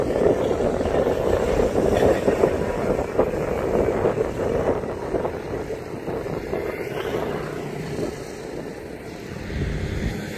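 Steady broad rumble of boats and barges moving along a canal past a tugboat, a continuous engine and water wash with some wind buffeting, fairly close and unbroken, with no talk.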